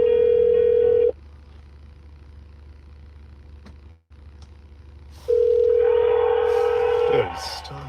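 Steady phone dial tone from an accidental call, a clear sustained hum heard for about a second, then gone for several seconds, then back for about two more seconds under faint background noise.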